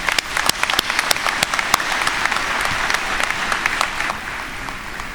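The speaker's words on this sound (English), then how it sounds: "Please join me in a well-deserved round of applause for the class of 2021." A crowd at a high school graduation applauds continuously, with many hands clapping loudly and steadily, sharp individual claps standing out from the dense patter.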